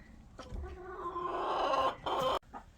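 A hen in a chicken tractor clucking while sitting on a duck egg, a close, drawn-out throaty cluck rising into a brief louder squawk near the end.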